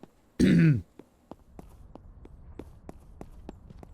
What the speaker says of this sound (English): I'm just like coughing my brains out right now